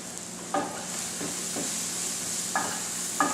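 Potatoes and leeks stirred in olive oil on high heat, with a steady sizzling hiss and a few distinct scrapes of a spoon against the pan, close and without speech.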